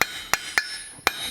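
A hammer strikes hot metal four times at uneven intervals while forging a taper for art deco bookends, each blow a sharp, bright, ringing clank close up over quiet background.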